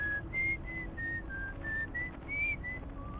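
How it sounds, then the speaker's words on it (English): In the space exploration game Outer Wilds, a tuneful whistled melody of short rising and falling notes plays over a low steady rumbling ambience, fairly clear and unaccompanied by talk. "I'm hearing whistling."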